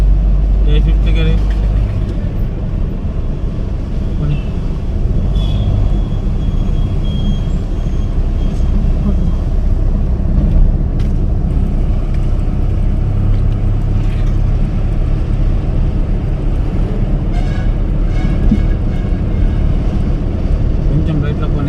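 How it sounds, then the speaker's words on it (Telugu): Car driving in fifth gear as the accelerator is pressed, a steady low engine and road drone running throughout at close range, with people talking over it. "పెంచు కొంచెం పెంచు ఎక్సలేటర్ పెంచు ఫిఫ్త్ గేర్"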